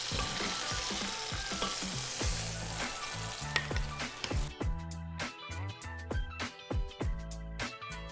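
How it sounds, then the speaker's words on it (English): Beef chuck roast browning in a pot, fairly quiet sizzling mixed with repeated sharp clanks and scrapes of a utensil against the pot, growing sparser toward the end. "beef chuck roast is all browned off."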